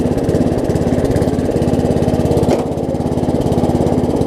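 An MTD riding lawn mower engine runs steadily up close, a loud, even mechanical chug with a rapid regular pulse and no pauses, alone without voices.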